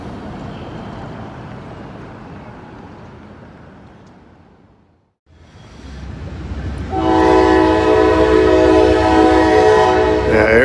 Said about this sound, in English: That's an NS train. Looks like it might be a grain train, too.